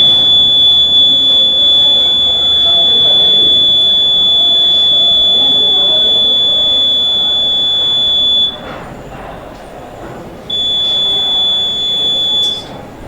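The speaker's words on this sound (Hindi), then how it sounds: "एक लंबी बीप सी आवाज होगी" An electronic voting machine control unit clearing its stored votes for a 2020 Banka election gives a long, steady, loud electronic beep, broken by a brief gap and then resuming.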